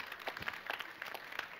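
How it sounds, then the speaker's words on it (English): Audience at a development conference panel claps briefly, a soft, thin scatter of hand claps heard from some distance at low volume. "you can applaud to that"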